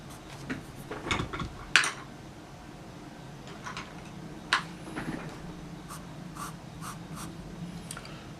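Pencil scratching across paper for a pirate sketch: soft, steady grainy strokes with a few sharper taps and clicks, close and quiet, with no voices.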